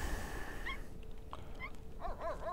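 A dog in The Sims 3 whimpers and yips, a few short high whines that rise and fall, faint over a low hum with no talk.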